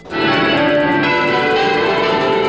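A recorded church bell peal rings loud and close, with a sustained, resonant tone that starts abruptly and hums on without pause.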